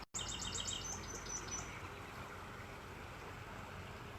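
Outdoor birdsong with a run of bright repeated chirps early on, then quieter calls over steady water or wind wash.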